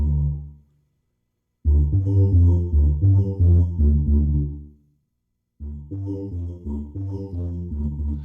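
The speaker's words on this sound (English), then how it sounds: "a male chorus section, it could sound something like this" Deep, sustained choral voice tones from a keyboard, low male choir chords swelling and falling in two phrases with a silent pause between.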